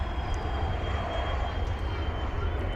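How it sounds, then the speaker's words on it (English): A Dornier 328 jet comes in to land at DFW Airport, its engine roar steady, loud and broadband throughout with a thin high whine above it, no talk. "It's the Dornier Jet 328,"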